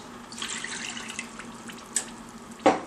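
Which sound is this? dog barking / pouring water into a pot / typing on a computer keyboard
pouring water into a pot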